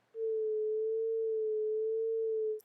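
A steady synthesizer tone from an FM synthesis setup, its pitch wavering gently with slow vibrato, holds for about two and a half seconds, clean and alone with no voices.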